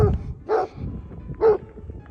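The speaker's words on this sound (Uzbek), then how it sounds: "yo'limdan katta kuchuk chiqib qoldi" A large dog barks twice on a mountain trail in the Tovoqsoy mountains near Tashkent, about a second apart, each bark deep and close over low background rumble.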